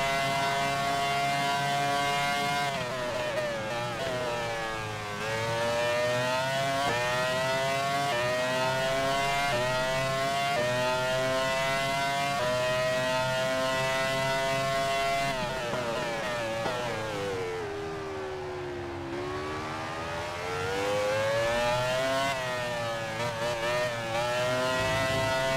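Grand Prix 4 racing car at speed on the Melbourne circuit in Australia, a loud high-pitched engine whine climbing and dropping through gear changes and braking, steady and close for the whole stretch.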